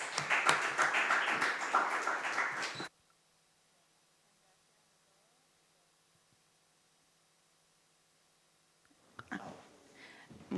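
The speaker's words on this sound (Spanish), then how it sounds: "vamos a darle también un fortísimo aplauso a ella" A crowd at an international conference claps loudly for a speaker: a thick burst of applause lasting about three seconds, cut off abruptly into near silence, with a brief return of noise at the very end.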